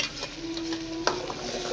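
A ground paste of poppy seeds, cashew, tomato and onion frying in oil while being stirred, a soft steady sizzle with scraping stir strokes and a sharper clink partway through.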